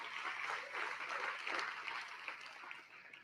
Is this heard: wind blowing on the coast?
no